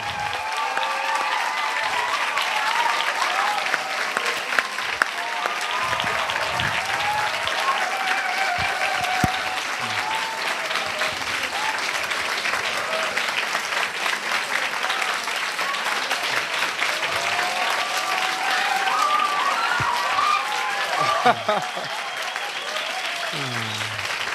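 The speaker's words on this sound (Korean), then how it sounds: "큰 박수로 격려해 주시죠." Sustained applause from an audience at a high school academic festival, dense even clapping with a few louder claps and crowd murmur, holding steady throughout.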